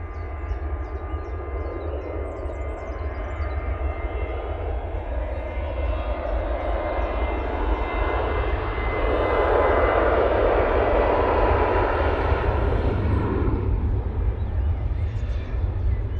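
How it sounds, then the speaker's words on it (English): A TUI Boeing 737-800 rolls down the runway at Manchester Airport bound for Barcelona, a distant engine roar building steadily and swelling louder midway before holding as it climbs away. "Plain Jane TUI now on the roll off to Barcelona using the 737-800"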